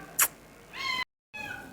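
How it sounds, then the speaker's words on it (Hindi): A house cat gives a few meows nearby, the calls separated by a short break of silence, with faint room noise under them. "आ गई बिल्ली, उसको ज़रा खाना डाल दूँ।"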